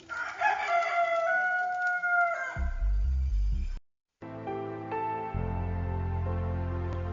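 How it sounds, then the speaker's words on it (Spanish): A rooster crows loudly nearby with a long, rising and falling cock-a-doodle-doo, followed after a short gap by low, swelling music. "y enseguida cantó un gallo."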